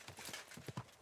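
Horse hooves clip-clopping in the medieval RPG Kingdom Come Deliverance II, a steady run of close, fairly quiet hoofbeats with a couple of heavier thuds near the end and no talk.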